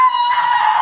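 A voice lets out a sustained, piercing horror-movie scream in imitation, loud and close, holding one shrill pitch for under a second with no other sound.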